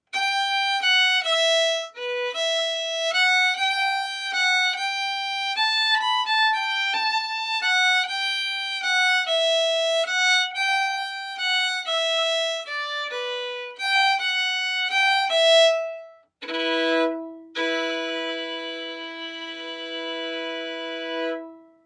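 A fiddle plays phrases of The Rights of Man, an Irish hornpipe, as a clear, close, steady stream of bowed notes in lilting rhythm, alone without talk, ending on a few sustained notes.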